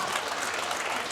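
Loud sustained applause and cheering from a snooker crowd reacting to a shot, dense and continuous throughout the short moment.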